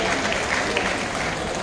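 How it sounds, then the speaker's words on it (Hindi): Steady, dense audience applause at a welcome ceremony, a continuous wash of many hands clapping at even volume throughout, with no pauses or standout voices. "एक बार जोरदार ताली चाहूंगा मैं आप लोगों से।"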